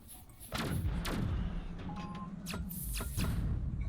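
A ship's weapon fires in the Atomic Drifter space game: several heavy, booming shots land in quick pairs over a low mechanical hum, loud and close.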